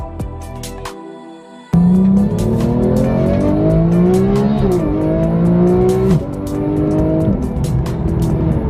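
A Porsche 911 GT3 with PDK transmission revs hard through several quick upshifts, the engine note climbing sharply each time, loud and close, with brief tire noise and no talk.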